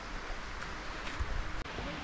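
Water flows steadily beside a forest path near a woodland temple in Chiang Mai, a constant soft rushing hiss with faint rustling and no talk.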